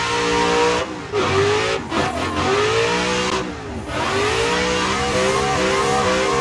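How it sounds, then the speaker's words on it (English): A modified car in the Assetto Corsa racing game, its turbocharged engine revving hard, with rising and falling whines through gear changes and a loud, continuous drone with brief dips. "the turbo on that car sounds fucking insane"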